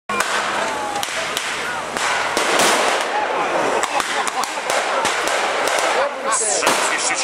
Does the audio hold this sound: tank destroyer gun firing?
yes